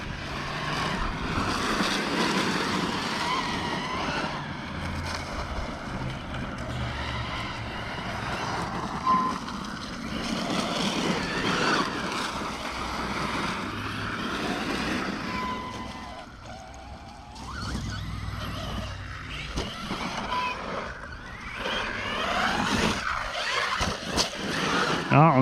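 HNR X-MARS radio-controlled car on a 4s setup driving outdoors on gravel, a steady buzzing electric motor whine that rises and falls with throttle, with tire scrabbling and gravel crunch over about twenty-five seconds.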